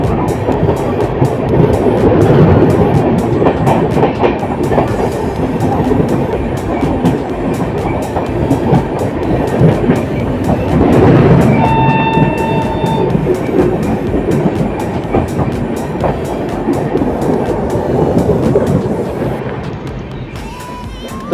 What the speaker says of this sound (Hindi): तो ट्रेन हमारी पहुंच गई अपनी Bhatni junction railway station Uttar Pradesh.